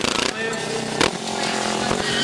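A racing motorcycle engine at a qualifying session in Romania buzzes and whines in a steady, rasping drone. A commentator talks over it throughout this short stretch.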